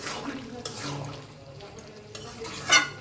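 A spoon scrapes and stirs through raw jackfruit curry frying with ghee in a pan, with soft sizzling, a few clinks against the metal and a voice speaking quietly over it.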